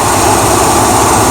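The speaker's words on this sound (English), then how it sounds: "it's got a little exhaust leak" A 1978 Chevrolet El Camino engine idling with a small exhaust leak, a loud, steady, dense rumble close by with no breaks.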